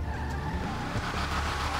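A Nightshade car from GTA Online accelerating, its engine a steady, loud drone that holds throughout with a faint rise in pitch.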